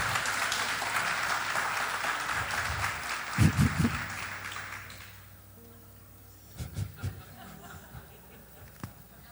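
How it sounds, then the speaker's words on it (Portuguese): Church congregation applauding as Léo is welcomed up, a broad wash of clapping that fades out after a few seconds, leaving quieter room noise with a few scattered sounds and faint murmurs. "Receba o Léo com a salva de palmas."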